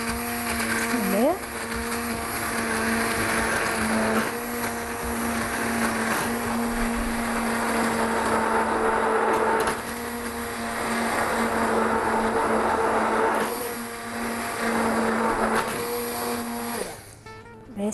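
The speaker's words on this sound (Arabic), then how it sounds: "وهنضرب بقى سواء بالهاند بلندر او لو عندك خلاط في البيت عادي، نضربها مع بعض" Hand blender whirring through a coconut milk and vanilla mixture in a kitchen, a continuous close mechanical drone with slight shifts in pitch as it works, cutting off near the end.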